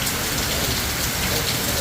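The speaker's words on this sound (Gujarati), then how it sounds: "વરસાદ ચાલુ થઈ ગયો" Heavy rain pours down in a village, a dense, loud and unbroken hiss of drops hitting surfaces with no pauses or voices.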